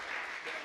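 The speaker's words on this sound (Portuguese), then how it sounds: "Vamos aplaudir o Senhor na vida dela" Congregation applauding during a church worship service, a steady broad wash of many hands clapping at moderate distance for under a second, with no clear voices.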